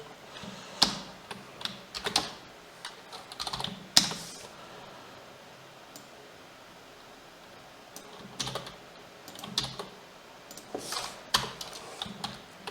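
Computer keyboard typed in quick irregular bursts of crisp clicks while HTML list items are written, close and moderately loud with brief pauses between runs.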